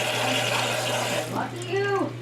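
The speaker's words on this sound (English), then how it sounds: "I'm going to start add hot water up to halfway up to the side of the baking" Hot water is poured from a tap into a cheesecake baking pan to make a water bath, giving a steady splashing rush that fades after a moment. A voice speaks over the end of the pour.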